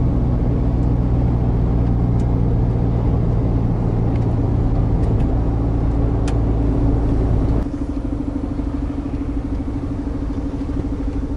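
A UK truck idles in slow traffic, its diesel engine a steady loud low rumble throughout, dropping to a slightly lighter hum partway through, with no talking.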